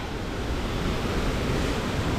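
Hattsubuchi Falls on a high-water mountain trail, a steady, dense roar of rushing water close by with no voices.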